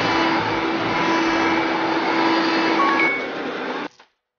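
A vacuum cleaner in a children's video game hums loudly and steadily with a whiny tone, then cuts off abruptly near the end, leaving silence.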